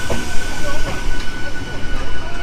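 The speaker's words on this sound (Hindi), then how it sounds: "ये देखिए इधर का पूरी जलेश्वर मेमू ट्रेन क्रॉस कर रहा है" A Jaleswar MEMU train passes through Bhadrak railway station, a loud, continuous rumble of rolling coaches with steady wheel and rail noise close by, with no talk over it.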